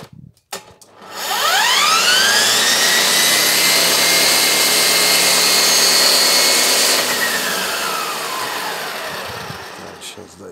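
Electric grass trimmer, a multi-tool that also serves as brush cutter, spins up with a rising whine, holds a loud steady high-pitched drone, then winds down; no talk.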